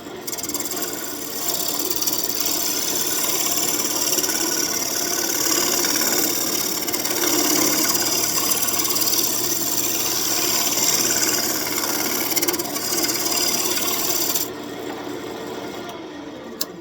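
A wood lathe spins with a rough, rattling chatter as the tool bites unevenly into an out-of-round oak blank, a loud continuous grinding that stops near the end.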